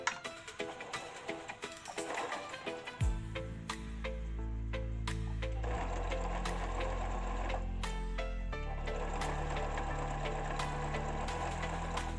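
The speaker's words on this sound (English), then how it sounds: "I'm going to proceed to stitch this" A sewing machine stitching a bucket hat with a zipper foot, a rapid mechanical whir with clicks, starting after a few seconds of softer handling noise and running continuously.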